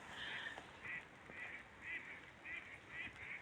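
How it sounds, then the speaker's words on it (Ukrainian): Faint, distant duck quacking in Terebovlia, Ukraine, comes in a regular series of short nasal calls over quiet outdoor background noise. "Якісь качки квакають чи що."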